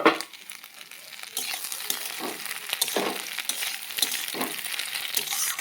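Onions fry in a pan, a soft continuous sizzle with occasional stirring scrapes and clatter, close and moderately quiet, with no talking.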